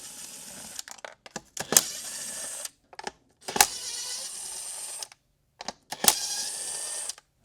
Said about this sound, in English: now you'll need a 10mm socket to actually remove our metal